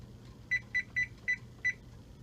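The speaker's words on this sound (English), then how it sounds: "I'll put the timer on here." A kitchen timer, set while a brine for pickled eggs with banana peppers sits covered, gives five short, clear electronic beeps in an uneven rhythm against a quiet room.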